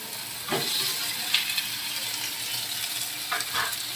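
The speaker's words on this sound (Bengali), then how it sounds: "মশলাগুলো ভাজা হয়ে গেছে তো এরপরে আমি ভেজে রাখা আলুগুলো দিয়ে দেবো" Fried potatoes are added to spices frying in a pan for potol dorma, producing a steady hissing sizzle with a few scraping stir bursts near the start and end, no talking.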